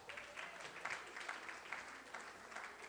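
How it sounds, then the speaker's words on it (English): Steady applause from an audience at an educators forum, a continuous patter of many hands clapping at moderate volume throughout. "Let's give these guys a round of applause."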